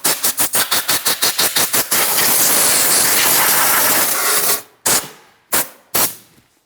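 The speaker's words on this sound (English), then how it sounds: "And now we can use some compressed air." Compressed air blasting at the intake of a 2007-2014 Ford Edge 3.5L engine: a rapid series of short bursts, then a long continuous loud hiss, then three separate sharp blasts, close up with no talking.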